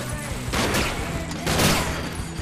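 Rapid bursts of gunfire from the Sunset Overdrive video game, two dense loud volleys of shots crackling over a noisy background, with a voice briefly heard.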